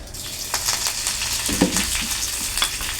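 Chili drops into hot coconut oil with mustard seeds and sizzles steadily, a close, continuous frying hiss with small crackles and pops throughout.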